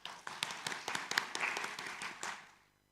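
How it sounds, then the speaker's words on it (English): Audience applause at a school graduation ceremony, a dense wash of many hands clapping that carries on for over two seconds before fading out. "we all deserve a big round of applause"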